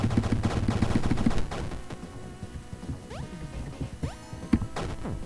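Gunfire from the indie video game Super Crate Box, dual pistols, shotgun and revolver: dense rapid shots and blasts at first, then sparser sharp bangs mixed with bright rising electronic game effects.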